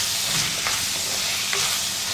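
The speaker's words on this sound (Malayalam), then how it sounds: "ഇനി ഒരു 5 മിനിറ്റ് ഉരുളക്കിഴങ്ങും കൂടി ചേർത്തൊന്ന് നന്നായിട്ട് വഴറ്റിയെടുക്കുക." Potatoes and onions sauté in a hot pan for a Kerala beef curry, with a continuous close sizzle and a few soft scraping stirs, no voices.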